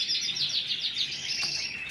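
Caged canaries chirp in rapid, continuous high trills, close and steady, with no talk.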